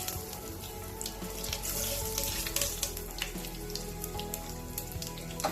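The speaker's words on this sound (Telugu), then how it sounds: "2 ఎండుమిర్చులు వేసి ఫ్రై చేసుకున్నాం." Dried red chillies and cumin frying in hot oil for a spinach curry, a close, continuous crackling sizzle with scattered sharp pops and spits.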